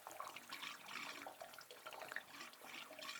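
Water running through an old pipe at a former lead mine on a trail, a faint, soft trickling gurgle heard close by and continuing steadily without talk.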